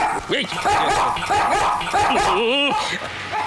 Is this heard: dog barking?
yes